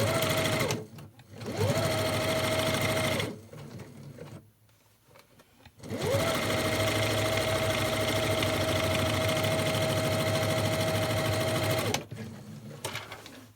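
A sewing machine stitches across the end of a fabric lunch bag in two bursts, a short run and then a longer steady whirring run with a pause between, loud and close with no voices.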